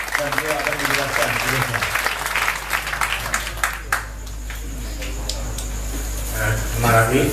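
Audience applause at a music performance gathering, greeting Pak Mustafa: a broad, steady patter of many hands that runs loud for several seconds and then thins out, with a voice speaking faintly underneath.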